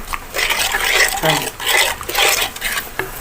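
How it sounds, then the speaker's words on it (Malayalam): A wet snack dough mixture is kneaded by hand with water, giving repeated squelching, slapping squishes in an uneven rhythm. The sound is close and fairly loud, and there is no speech. "കൈ വെച്ച് കുഴക്കാൻ പറ്റുമെങ്കിൽ കൈ വെച്ച് കുഴച്ചെടുക്കുക കട്ടയില്ലാണ്ട് നമുക്ക് ഇതുപോലെ നന്നായിട്ട് ഒന്ന്"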